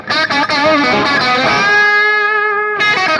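Distorted electric guitar through a Nux Mighty Air amp with analog delay and spring reverb plays a short phrase, then a sustained chord rings out with echoing repeats and a shimmering reverb tail, loud and close.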